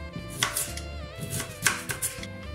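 A knife chops a carrot on a cutting board in quick, uneven taps, close and moderately quiet, with faint clinks of kitchenware.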